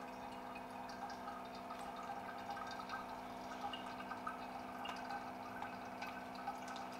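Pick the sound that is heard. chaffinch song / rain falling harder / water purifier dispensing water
water purifier dispensing water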